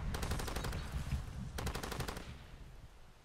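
Rapid automatic gunfire in the video game Far Cry 2, two loud sustained bursts of evenly spaced shots with a short gap between them, followed by a fading rumble.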